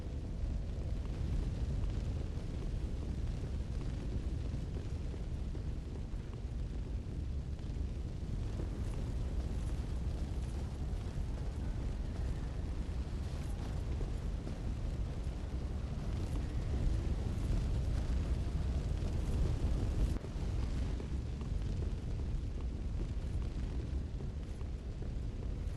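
Steady roaring fire burns through a ruined area in Dark Souls III, a dense low rumble with crackle holding loud and continuous throughout, no voices over it.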